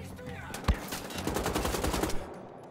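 Gunfire in the video game Wolfenstein: The Old Blood: one sharp shot followed by a rapid, steady burst of automatic fire lasting about a second, loud and close with a ringing tail.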